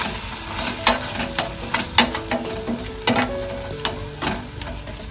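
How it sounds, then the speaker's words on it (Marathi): A spoon scrapes and stirs red chilli paste into sautéed onion and garlic in a hot pan, with steady sizzling and repeated sharp knocks of utensil against metal throughout, close and moderately loud. "सर्व व्यवस्थित मिक्स करून घेतोय"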